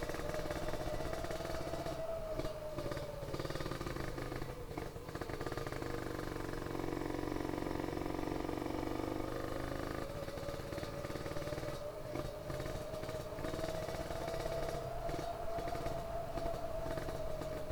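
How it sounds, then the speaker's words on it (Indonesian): A cold motorcycle engine on a touring trip sputters and idles roughly, a low, uneven engine rumble with a wavering tone that rises and falls over the stretch. "Motornya kedinginan guys, agak repet."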